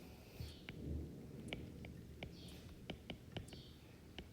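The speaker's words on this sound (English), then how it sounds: "there's a storm and a bird" A distant thunderstorm rumbles low outside while a bird chirps in short, repeated bright calls, a few clicks and soft room noise mixed in, no speech.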